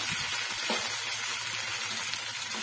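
Potatoes and broad beans (sem fali) roast in a pan, giving a loud, continuous close-up sizzle with faint stirring underneath and no voices.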